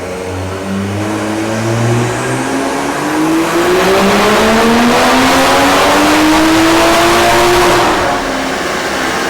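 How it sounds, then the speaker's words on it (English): A Toyota Supra with an auxiliary fuel system is strapped to a dyno and pulled hard, its engine note climbing steadily in pitch through one long, loud rev before dropping off near the end. "strapping it down to the dyno and seeing what type of power it's gonna make with this new setup"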